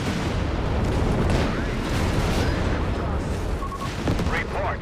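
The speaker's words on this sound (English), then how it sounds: "Massive barrage into the base." Dense artillery barrage and gunfire in the strategy game Company of Heroes 3, a continuous loud wash of booms and crackling shots with no clear gaps.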